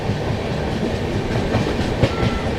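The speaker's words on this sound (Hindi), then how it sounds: "WAP-5 लोकोमोटिव लगा हुआ है आगे की साइड अपनी काशी महाकाल एक्सप्रेस में, इसलिए जनरेटर कार चल रही है" The Kashi Mahakal Express from Varanasi to Indore, hauled by a WAP-5 locomotive with a generator car running, gives a loud, steady rumble of rolling wheels with rhythmic clatter close by.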